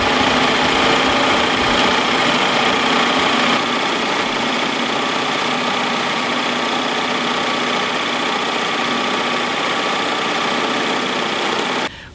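A sewing machine stitches a decorative wave stitch with decorative thread on fabric, a loud, close, steady whirring hum that runs unbroken for about twelve seconds before cutting off abruptly.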